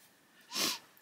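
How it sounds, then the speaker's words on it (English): A single short sniff through the nose, close and fairly soft, rising and fading within about half a second against a quiet room. "Excuse me sniffing."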